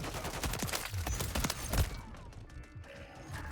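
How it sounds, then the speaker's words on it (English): Suppressed shotgun fire in a Call of Duty game: a rapid string of muffled, chunky shots over the first two seconds, then quieter game ambience with no voices. "I hate putting suppressors on shotguns because it totally gimps the amazing chunky sound they have"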